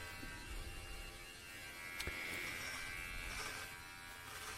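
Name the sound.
Meridian electric trimmer trimming hair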